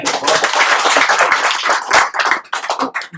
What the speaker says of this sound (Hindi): इसके लिए स्वागत के लिए पर जोरदार ताली